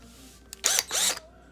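Small hand drill spinning a Kawasaki carburetor float hinge pin in its chuck, two short high whirring bursts up close, each under half a second, with quiet around them.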